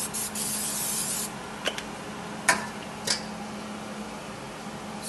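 Water spraying in broadband hissing bursts while cobia fish are being cleaned, one long spray for the first second followed by several short, sharp spritzes, fairly close.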